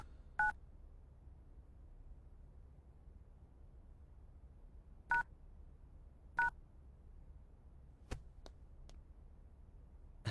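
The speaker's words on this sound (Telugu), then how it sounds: "శివన్న కాల్ చేద్దాం." Short electronic telephone keypad tones sound while a call is dialed, a few isolated beeps spaced seconds apart over a faint quiet hum, followed by fainter clicks near the end.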